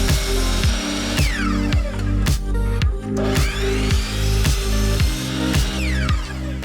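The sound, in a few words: power drill driving trim screws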